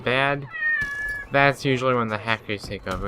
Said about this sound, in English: that is my cat, and he says hi